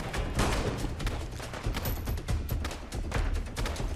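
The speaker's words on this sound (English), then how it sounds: "Something's shooting at him." Dense, overlapping gunfire in Fallout London, a rapid, continuous fusillade of shots at moderate distance with no clear pauses, loud and chaotic throughout.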